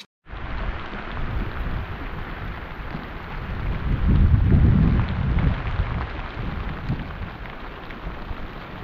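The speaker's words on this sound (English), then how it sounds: "It's raining, by the way." Rain pattering on a tent during a kayaking trip, a steady broadband hiss that swells around the middle with a low rumble, continuous and close, with no voices.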